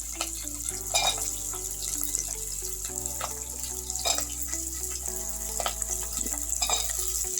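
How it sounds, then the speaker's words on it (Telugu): Cut okra frying in hot oil gives a steady, close sizzle, with frequent light clinks and scrapes of stirring throughout and no talking. "కట్ చేసుకున్న బెండకాయలు వేసేస్తాం"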